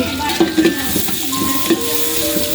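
Onions frying in oil for chicken pulao, a steady close sizzle with a few clinks of a spoon stirring against the pot, no talking.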